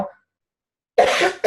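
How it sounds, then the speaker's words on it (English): A woman coughs in a short burst, a brief faint sound at the start followed by silence and then a loud, close cough with a second sharp cough at the end. "I'm not even drinking bubbly water tonight, but I'm still coughing."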